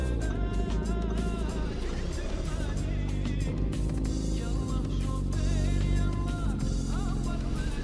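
A car engine in the City Car Driving video game revs up after a gear shift, a loud sustained drone rising in pitch, with someone talking over it.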